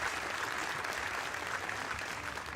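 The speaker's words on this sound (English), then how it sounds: "Well-deserved round of applause" Steady, dense audience applause fills the hall at a World 10-Ball Championship pool match in 2019, sustained evenly throughout with no voices on top.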